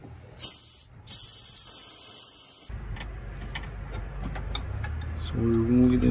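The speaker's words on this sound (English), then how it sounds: "Let's go ahead and spray our freeze off on there." Penetrating lubricant sprays onto the water pump pulley bolts of a Ford Super Duty 6.8 in two loud hissing bursts, the second longer, followed by clanking tool work under engine-bay noise.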